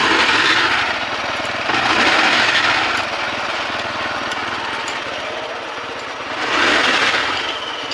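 A moped's small engine, a Hero XL Super BS6, runs steadily up close with its rear wheel spinning, a rapid, buzzing rattle whose loudness swells and eases a few times.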